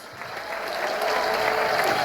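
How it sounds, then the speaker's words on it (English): Audience at a community event giving a round of applause, steady crowd clapping that builds slightly and holds at an even level. "Let's give her a round of applause."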